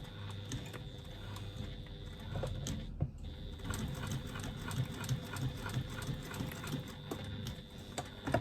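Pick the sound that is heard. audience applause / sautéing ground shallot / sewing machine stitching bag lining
sewing machine stitching bag lining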